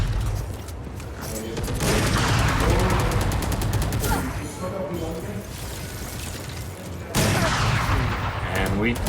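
Rapid gunfire from a Valorant esports match, dense bursts and sprays of shots layered under continuous excited casting commentary throughout.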